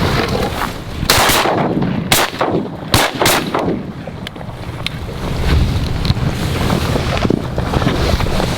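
During a mallard duck hunt, about four sharp, loud shotgun blasts go off in the first few seconds, two of them close together. Heavy wind buffets the microphone throughout.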